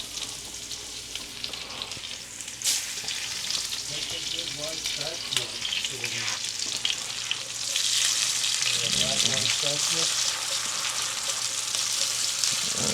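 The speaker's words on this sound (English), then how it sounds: "I love frying food, but at home, it's just a little difficult." Fries sizzle and crackle steadily in hot beef tallow, a dense bubbling hiss that swells louder partway through, with faint low sounds underneath.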